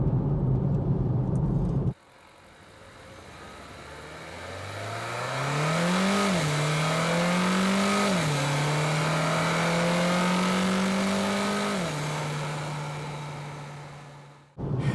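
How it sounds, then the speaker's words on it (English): A Renault Clio RS engine accelerates through its gears, rising in pitch with each pull and dropping at every shift, steady and fairly loud, after a brief burst of wind noise at the start. "you're hearing this car go through its cadences, through its gears"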